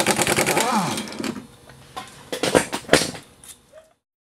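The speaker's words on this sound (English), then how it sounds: "I'm going to put my impact on it and spin it" An impact wrench spins a bolt on an Audi A4 B5 1.8T control arm, making a close, loud rapid rattle for about a second, followed by several sharp metallic clanks and taps.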